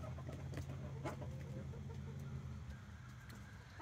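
Backyard chickens cluck softly and repeatedly over a low steady background, close by but faint, with no talking.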